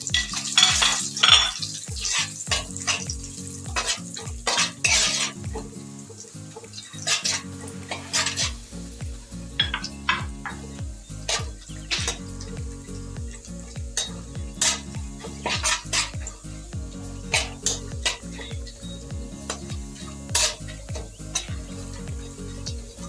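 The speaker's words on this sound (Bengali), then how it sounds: "আর এটা ড্রাই ফ্রুটটা লো ফ্লেমে ভাজতে হবে" Dry fruits with a bay leaf frying in a pan over low flame for carrot halwa, with a spoon repeatedly stirring and scraping the pan in a steady rhythm over a soft continuous sizzle, close and clear without talk.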